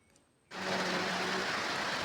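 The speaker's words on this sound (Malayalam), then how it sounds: "പുറത്ത് നല്ല മഴയാണ് കേട്ടോ നല്ല തകർത്തമായിട്ട് മഴ പെയ്തുകൊണ്ടിരിക്കുന്നുണ്ട് കേട്ടോ" Heavy rain starts abruptly after a brief quiet moment, then pours steadily as a dense, loud hiss of drops on surfaces.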